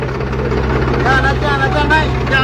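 A steady low tractor engine rumble runs throughout, loud and close, with faint voices talking over it.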